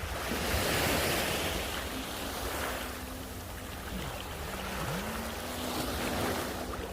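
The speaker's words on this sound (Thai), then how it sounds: "อันนี้ก็เป็นแนวหาดนะเจ้า นี่แนวหาด" Waves wash onto the beach at Koh Samet in a broad, continuous surf roar with swells rising and falling, mixed with wind noise on the microphone.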